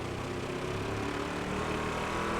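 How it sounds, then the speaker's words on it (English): In the racing game Wreckfest 2, a damaged car engine drones continuously and loudly, its steady buzzing hum filling the short stretch without any voices. "Car does not sound so good anymore."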